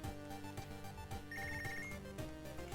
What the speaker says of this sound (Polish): teraz jeszcze telefon dzwoni